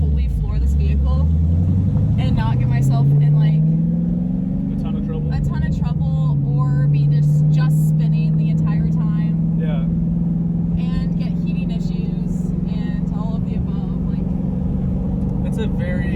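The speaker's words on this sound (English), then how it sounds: "I love being able to like fully floor this vehicle" A manual Camaro engine revs up at full throttle, a loud, close rumbling roar that climbs in pitch and then holds a steady drone while a person talks over it.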